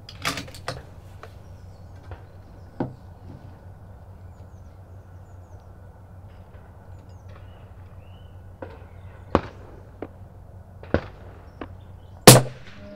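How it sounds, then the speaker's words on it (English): Rifle shots while zeroing a scope at an outdoor range, scattered sharp cracks of varying loudness over a quiet background, the loudest near the end. "Now fire your first shot,"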